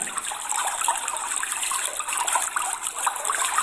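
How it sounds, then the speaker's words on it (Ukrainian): Water trickles and runs steadily, a continuous close splashing flow with no pauses and nobody speaking. "Так, це тече водичка."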